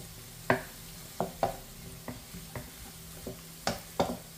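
Onions caramelizing in a pan, stirred with a utensil that scrapes and taps in short sharp strokes roughly every half second over a soft low sizzle, close and clear with no talking.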